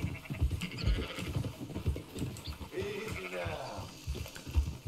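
A flock of sheep bleats repeatedly in Red Dead Redemption 2, overlapping wavering cries near and far over rustling footsteps and faint outdoor ambience.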